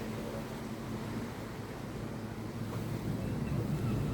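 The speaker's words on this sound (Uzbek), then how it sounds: "Mana oldinda ham ishlayapti motor." Ferry engine running on a crossing from Denmark toward Sweden, a steady low droning rumble mixed with wind and water wash, continuous and fairly quiet, with no talk heard.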